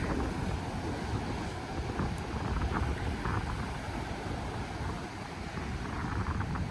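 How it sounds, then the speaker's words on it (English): Ocean waves wash onto a beach at Hilton Head Island, a continuous soft roar of surf with wind buffeting the microphone over the whole stretch. "gorgeous opportunity just to walk along the beach, listen to the water"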